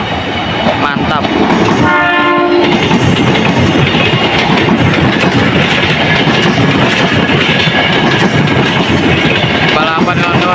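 A train rolls past loudly at a railway switch near Depok, wheels clattering continuously, with horn blasts sounding briefly early on and again near the end.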